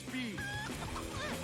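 A chicken clucks in short, choppy bursts across a brief stretch, close and clear, mixed with background voices.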